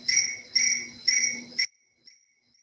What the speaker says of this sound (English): Maybe it's the crickets.